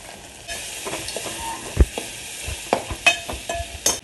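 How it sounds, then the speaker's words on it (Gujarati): Garlic and spices sizzle in a pan after mustard and cumin seeds and turmeric, with a steady crackling hiss broken by repeated scraping knocks of a spoon as the mixture is stirred. "લસણને હલાવી લઈશું અને પછી બટેકા નાખશું."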